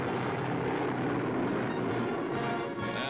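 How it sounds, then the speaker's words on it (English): Squadron of P-38 fighter planes flying over in an aerial salute for a graduating class, a dense continuous engine roar at steady loudness. "Aerial salute for the graduating class from a squadron of fast P-38s."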